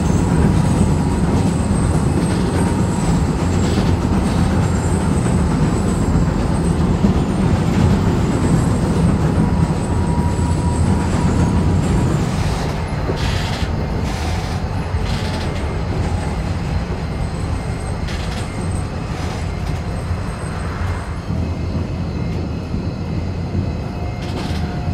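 Single-track interurban tram running across flat plains near Arad, a continuous close rumble and rattle of wheels on rails, heavier in the first half and easing later, with occasional squeals and knocks.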